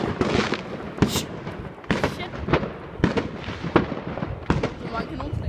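Kanonslag firecrackers burst around a residential neighbourhood during fireworks, a string of sharp loud bangs about every half second to second, some near and some farther off, with people's voices in between.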